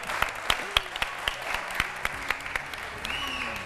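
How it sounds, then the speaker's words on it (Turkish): Steady applause from a studio audience on a Turkish TV word game show, with sharp individual claps, a voice faintly under it, and a brief electronic tone near the end. "Hadi bir moral alkışı daha."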